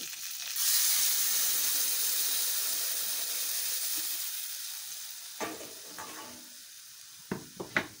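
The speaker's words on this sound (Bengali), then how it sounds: "আর হলুদ দিয়ে কষানোর পরে জল ঢেলে দেবো" Water poured into a pan of sizzling turmeric spice mix for fish curry sets off a sudden loud hiss that fades slowly, with a few clinks of stirring near the end.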